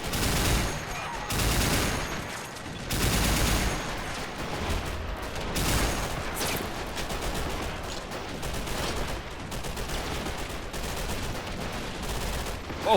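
Sustained heavy gunfire from a WWII war video game set in a German naval amphibious beach assault on Crimea, with dense volleys, machine-gun bursts and loud nearby impacts filling the whole stretch without pause.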